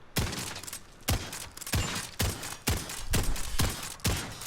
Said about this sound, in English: it came in the form of a shotgun that can shoot really dang quickly